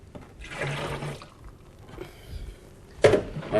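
Water splashes and swirls inside an emptied Coopers beer kit can as it is rinsed, coming in a few short, close, sloshing bursts with a louder splash near the end.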